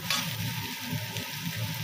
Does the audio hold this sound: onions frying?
yes